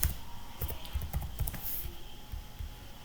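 Typing on a computer keyboard while setting up an on-premise VPC, a run of quick, close, light key clicks in an uneven rhythm with no talk.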